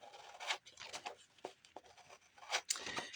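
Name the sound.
cutting paper from a magazine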